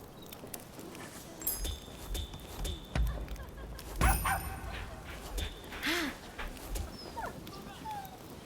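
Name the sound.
dog whimpering and barking in Rise of the Ronin video game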